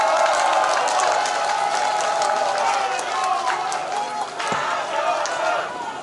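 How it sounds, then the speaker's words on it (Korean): A crowd at a political rally in Chungju applauds and cheers for Na Kyung-won, dense sustained clapping mixed with crowd noise and shouting voices throughout. "큰 박수 보내주시기를 부탁드리겠습니다"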